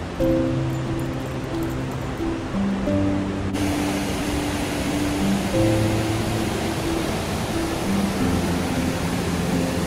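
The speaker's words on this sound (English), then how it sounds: "This waterfall is powerful and loud." Shannon Falls, a powerful and loud waterfall, roars as a dense, continuous rush of water that grows fuller after a few seconds, with faint tonal sounds layered underneath.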